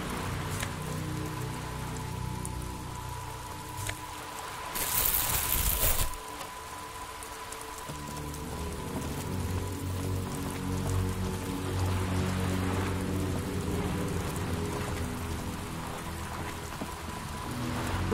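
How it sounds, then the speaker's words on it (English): Rain falls steadily on wooden boards in Disco Elysium, a dense, even patter that carries on throughout, broken only by a brief brighter burst near the middle. "rain keeps falling down on the wooden boards she's standing on"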